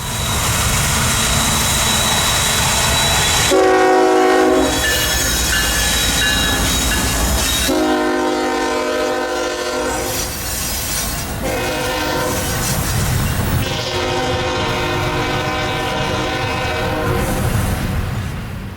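FEC 141, a freight train carrying 18 concrete high and wide loads, rumbles past up close with steady wheel and rail roar while its horn blows repeated long blasts in several separate sequences.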